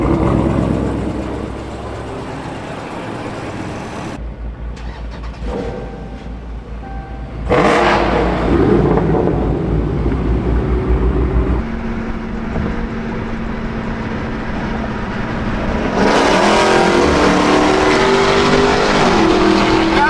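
Dodge Charger Scat Pack 392 V8 cars roaring past on a highway, loud exhaust swelling and fading in several close passes with some chatter from people nearby.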